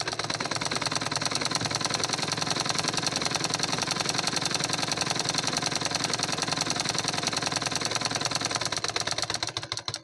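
A sewing machine runs continuously, stitching a cotton lining into a blouse, with a steady, fast mechanical clatter and hum that holds for the whole stretch and eases slightly at the end.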